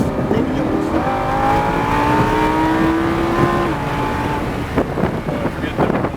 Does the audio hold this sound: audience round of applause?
no